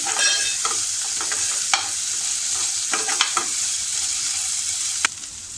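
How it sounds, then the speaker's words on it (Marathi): Dal being sautéed in a pan over a low flame for Mumbai vada pav, a bright steady sizzle with repeated scraping and stirring strokes and a sharp clink near the end, with no talking. "ही डाळसुद्धा आपण छान अशी परतून घेऊया. हे सगळं आपल्याला मंद आचेवरच करायचं आहे."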